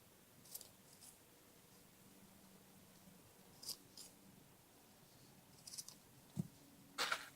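Scissors snip the free ends of a knot in a dreadlock, giving a few soft, brief clicks spread across a quiet stretch, with a small cluster of snips near the end.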